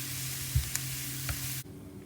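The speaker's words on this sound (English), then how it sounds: "And I'm just going to lightly brown them." Food lightly browning in a frying pan on medium heat, a loud continuous sizzle with a few soft utensil taps, cutting off abruptly near the end.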